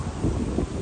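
Wind blows outdoors into a microphone, producing a steady low rumbling buffet with slight gusting swells and no voices.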